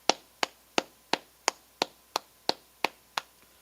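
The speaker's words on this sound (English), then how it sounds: "So let's clap it up" Hands clap in a steady, evenly spaced rhythm at a Sabbath service, about ten crisp claps close by in a quiet room.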